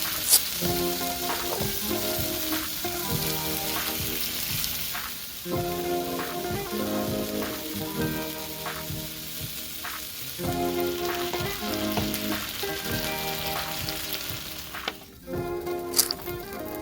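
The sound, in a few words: leeks sizzling in olive oil on a hot pan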